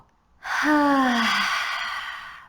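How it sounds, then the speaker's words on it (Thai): A deep exhale during a yoga breathing exercise, one long breathy push of air with a voiced, sighing tone that starts suddenly and fades over about two seconds. "หายใจออก"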